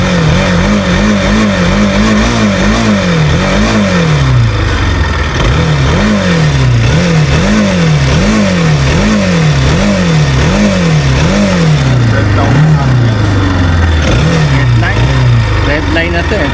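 A Kawasaki NS200 motorcycle engine revved repeatedly in steady, rhythmic up-and-down sweeps, loud and close, with the pitch climbing and falling about once a second and a constant mechanical whine underneath.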